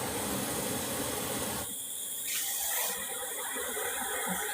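Running water from a tap rinses sponges, a steady close hiss of flow that shifts in tone partway through as the stream is interrupted, then resumes.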